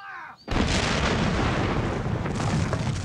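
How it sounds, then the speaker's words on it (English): Civil War artillery barrage against Union defenses: a sudden, loud explosive blast that opens into a long, continuous roaring rumble of heavy fire. "a giant artillery barrage intended to soften up the Union defenses before the attack began with a deafening explosion"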